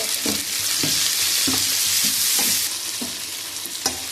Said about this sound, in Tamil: வெங்காயம் வந்து இது லேசாக கலர் மாறின உடனேயும் தக்காளி சேர்த்து வதக்கிக்கலாம்